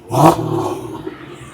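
A Range Rover P525 with a supercharged V8 gives a short, loud rev that flares up and then settles into a rumbling idle, heard close by and without talk.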